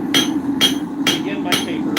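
Hammer striking hot iron on an anvil while squaring a mulling iron, four evenly spaced sharp ringing blows about half a second apart, close and loud over a low background hum.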